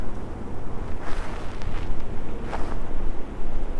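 Wind rushes across a mountain top on Peters Mountain along the Appalachian Trail in Pennsylvania, a steady broadband roar with soft gusts. A faint highway hum sits beneath it and no one speaks.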